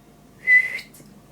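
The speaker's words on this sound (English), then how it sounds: "that's a terrible whistle" A single short, shrill whistle blown by a person to call a dog, rising sharply then cutting off, loud and close against near silence.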